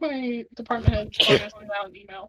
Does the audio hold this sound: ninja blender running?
no